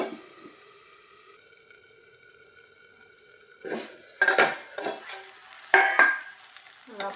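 Tomatoes roast in a pan for a Maharashtrian green moong curry. A quiet faint hiss opens, then from midway loud clattering stirs and scrapes of a spoon against the pan come in irregular bursts over the soft frying.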